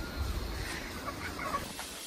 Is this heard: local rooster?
yes